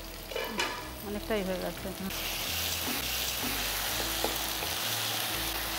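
Fish frying in a pan on a home stove gives a steady, close, continuous sizzle and crackle throughout, with a brief bit of talking over it.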